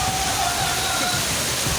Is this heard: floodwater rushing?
yes